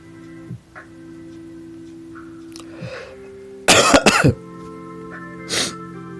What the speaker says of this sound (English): I just realized I just coughed into the microphone